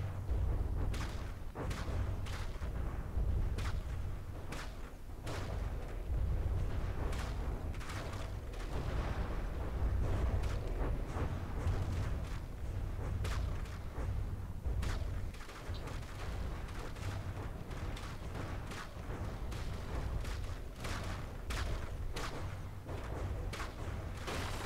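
Torpedo explosions rip into a ship in Minecraft, a steady run of booming, thudding blasts and rumbles at a dense irregular pace, loud and continuous with no speech.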